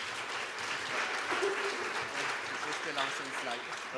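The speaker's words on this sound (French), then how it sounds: "Bonne main d'applaudissements." An audience applauds at a public pitch event, a fairly quiet, continuous patter of clapping with voices mixed in.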